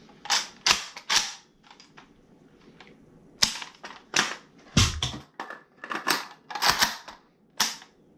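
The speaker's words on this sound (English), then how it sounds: "Alright, so that is how I reload the AK." An AK rifle is handled and reloaded, a series of sharp metallic clacks and snaps in irregular bursts, close and crisp against a quiet background with no talking.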